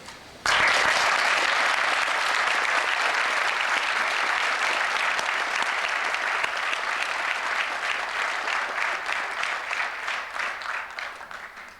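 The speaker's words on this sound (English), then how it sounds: "I think this class wants to applaud them" A police recruit graduating class applauds its academy staff at a 1993 ceremony, a loud, even burst of many hands clapping that holds steadily and then tapers off near the end.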